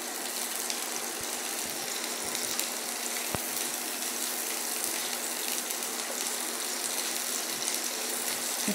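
Chili chicken ingredients fry in a pan over raised heat, producing a steady, even sizzling hiss throughout with an occasional faint tap.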